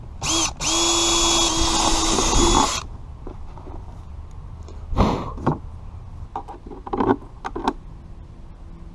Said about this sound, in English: Now I'm just going to screw in a screw through the handle to hold it tight.